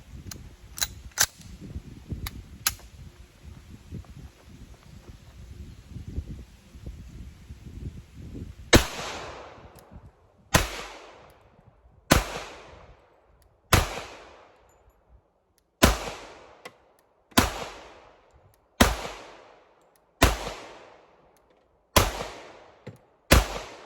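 A Sig P227 pistol fires at a shooting range. A few scattered shots come first, then a steady run of loud, sharp single shots spaced roughly a second and a half apart, each trailing off in a brief echo.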